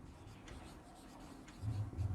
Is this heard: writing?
yes